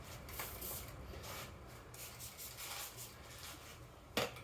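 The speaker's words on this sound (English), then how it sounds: "This cloth is going to spread the product, and then the one on the bonnet is going to dry it" A cloth being worked by hand across the painted wing of a BMW M4 CS to spread detailing product, giving soft, continuous rubbing swishes in repeated strokes, close and quiet.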